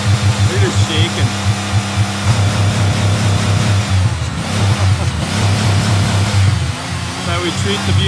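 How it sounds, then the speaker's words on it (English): A car engine revs repeatedly at close range in a garage, its pulsing surges rising and falling over several seconds while people talk nearby. "Just rev her right up."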